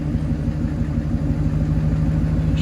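A show truck's engine, running again after being revived and still sounding off, idles with a steady low, uneven rumble close by, with no talk.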